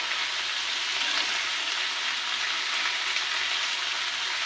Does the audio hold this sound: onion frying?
yes